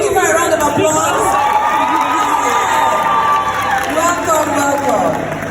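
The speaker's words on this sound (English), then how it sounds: "So can we give her a round of applause?" An event audience at a creative masterclass in Nigeria breaks into dense, steady applause and cheering, loud and continuous throughout with shouts mixed into the crowd noise.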